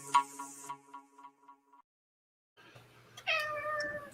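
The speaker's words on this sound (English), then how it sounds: "I didn't think I had a cat in here with me, and I hear a cat meowing." A cat meows twice, faint and fairly close, separated by a quiet gap, with light ticking in the background.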